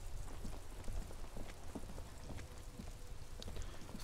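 Rain patters steadily as ambience in the video game Disco Elysium, a soft even wash of drops with scattered faint taps, fairly quiet and without voices.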